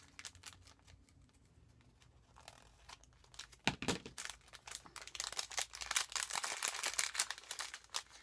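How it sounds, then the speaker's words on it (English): Crinkling plastic packaging being cut open with scissors while unpacking tiny craft owl embellishments, a quiet stretch giving way to dense, close crackling and snipping that grows louder and busier toward the end. "Let me get my scissors and I'll open these up."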